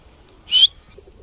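A single short pigeon call, a brief rising chirp, stands out against a quiet background with faint low rumble.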